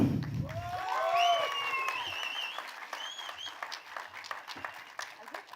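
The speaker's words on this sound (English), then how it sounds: "Round of applause, everybody, once again." Audience applause at the trailer launch press meet for the film Toxic, a moderately quiet, steady wash of clapping with a few whistle-like cheers rising early on, slowly thinning out toward the end.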